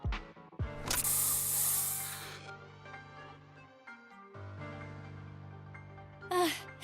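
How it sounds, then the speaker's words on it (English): A special bamboo spray hisses in a video game, a loud, bright burst lasting about a second over background music, followed later by a second short spray burst near the end. "Here, have a taste of this special bamboo spray."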